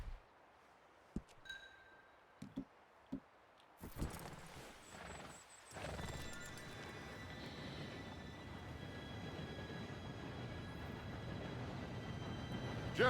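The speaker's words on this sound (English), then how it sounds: "Train should be here any minute now." A train in Red Dead Redemption 2 rolls in, first as a few sparse clanks and thumps, then as a sustained loud rumble with whistle-like tones that keeps building.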